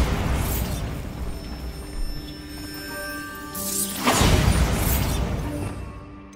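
The Bombarda blasting spell in Hogwarts Legacy sets off two loud explosions, a sharp one at the start and a bigger roaring blast a few seconds later, with a ringing magical tone between them.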